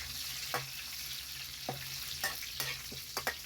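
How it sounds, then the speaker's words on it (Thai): Chilies and kaffir lime leaves fry in hot oil, a faint steady sizzle under occasional soft scrapes and clinks of a stirring utensil. "เราจะทอดพริกทอดใบมะกรูดนะครับ"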